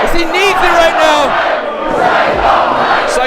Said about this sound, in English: thanks to the chants from the crowd